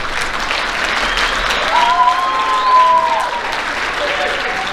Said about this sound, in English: Give these young ladies a round of applause.